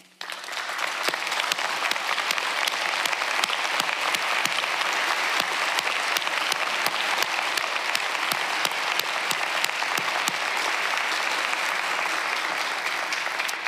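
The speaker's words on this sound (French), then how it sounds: "pour qu'on puisse les applaudir chaudement" Warm, sustained applause fills the hall at the Prix du Québec award ceremony, many hands clapping in a steady, moderately loud wash with occasional sharper claps standing out.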